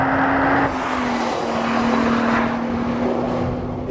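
A 2014 Nissan GT-R Track Pack driven hard around a race track, a steady loud engine drone with a sustained tone and road roar heard from inside the cabin, no talk.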